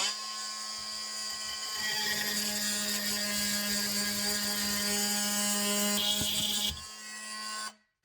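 A Dremel MM20V oscillating tool fitted with a universal blade cuts into hickory hardwood with a steady, buzzing high-pitched whine for several seconds, then stops and idles briefly before cutting out.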